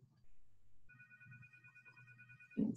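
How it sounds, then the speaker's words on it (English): A phone rings with a steady electronic tone that holds for over a second, then a brief thump follows; quiet and close. "All right, so my phone is ringing."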